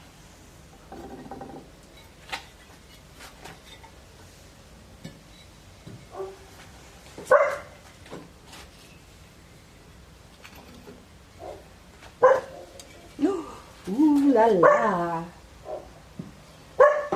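A pet dog indoors gives a few sharp barks and a whiny, rising yip-whimper between them. The sounds come in scattered bursts over a quiet room, close and fairly loud, with brief human voices.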